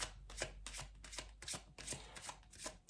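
Tarot cards are shuffled repeatedly at close range, a rapid series of papery riffles and soft slaps in a steady rhythm.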